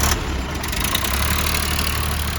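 An HMT 4022 tractor engine rumbles steadily nearby, a loud constant idling drone with no voices.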